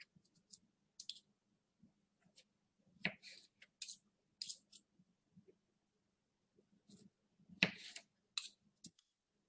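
A knife cuts potato into small pieces on a board for a catalase lab, giving sparse, quiet clicks and taps spread unevenly, close by with no talk.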